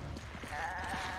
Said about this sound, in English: Oh, there are goats.